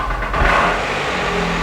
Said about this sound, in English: Hear that then? That rattle knock thing?